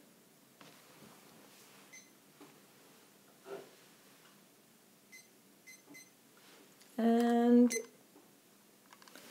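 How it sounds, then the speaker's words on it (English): A kitchen timer alarm goes off with a short, loud electronic ringing burst near the end, following a few soft ticks and clicks in a quiet indoor room, with a brief word spoken. "Okay, timer's gone and we are on to the next thing."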